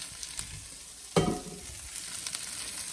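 Ground meat and Vidalia onions land in a hot pan with a sudden loud sizzle, which settles into steady frying crackle and hiss, without talk.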